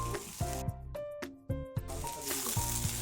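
Washed flattened rice (chira) tipped into a sizzling pan, a soft hissing fry with brief wet squishes, heard beneath a louder melodic musical background.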